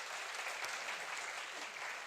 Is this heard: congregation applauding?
yes